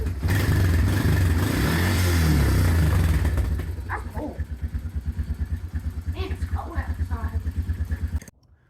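A Honda Recon ATV engine, after a carburetor and fuel petcock repair, runs loudly at first, then settles into a steady, pulsing idle with a chugging rhythm close by.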